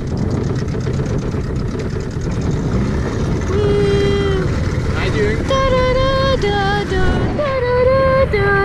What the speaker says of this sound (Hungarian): többen kérték, hogy mutassam meg, hogy milyen a hangja a motornak